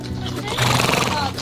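A horse whinnies amid hoof clops while a person talks over it, the neigh swelling louder in the latter half.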